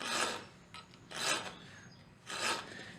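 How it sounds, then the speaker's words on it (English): A metal file rasps along the spine of a knife in three slow, even strokes, each a close scratchy rubbing swell with quiet pauses between, used to cut a decorative pattern in blacksmithing work. "And I'm going to give it a little bit of filing."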